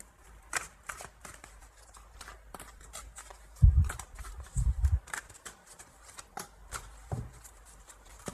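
Tarot cards shuffled by hand nearby, a run of quick riffling and flicking bursts with a few louder slaps and soft taps between, no speech.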